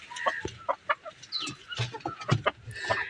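A desi hen playing with a balloon clucks in a quick, irregular series of short clucks, close by, with a few sharper squawks mixed in.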